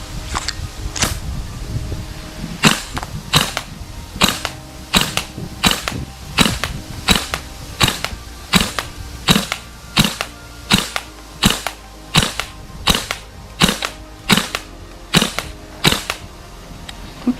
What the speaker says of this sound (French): Le ressort du buffer qui est là-dedans.